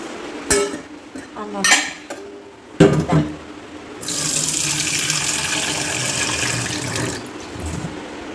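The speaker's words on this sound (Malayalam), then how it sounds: "നമുക്ക് ചായക്കുള്ള വെള്ളം വെക്കാം." Indoors at a kitchen sink, a few utensils clink and clatter. Then a running tap steadily fills a pot with water for tea for about three seconds before cutting off.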